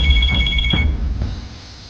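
Electronic telephone ringing: a pulsed high-pitched ringtone trills for nearly a second, loud and close, then stops, leaving room tone.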